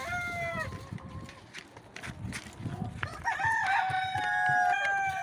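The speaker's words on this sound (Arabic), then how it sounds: "دجاج البراهمه" Brahma chickens on a poultry farm, with a rooster crowing loudly and repeatedly over steady clucking and general barnyard commotion, the crows growing longer and more prominent toward the end.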